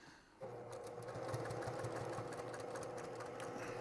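A sewing machine stitches the fabric of a travel shave bag, its fast rhythmic mechanical whir starting abruptly and running steadily, close and moderately quiet.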